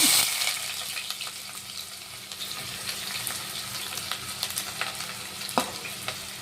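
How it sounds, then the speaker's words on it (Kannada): Onion fries in hot oil for a home-style vegetable bath, a soft, steady sizzle with scattered small clicks and crackles from stirring throughout. "ಆನಿಯನ್ ಫ್ರೈ ಆಗಿದೆ ನೋಡಿ."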